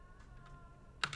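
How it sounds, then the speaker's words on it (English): Computer keyboard typing during a live sports-betting session, a short burst of two or three soft clicks near the end after near silence, close and fairly quiet with no talk. "I've been typing this whole time."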